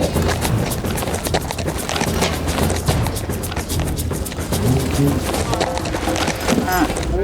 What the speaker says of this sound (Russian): Какие-то 2 мужика на лошадях гоняют быка.